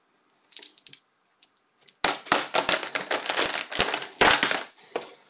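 Solid plastic Dragon Castle board game tiles clacking and rattling as they are handled, a few light taps at first, then a dense run of close, loud clicks and knocks.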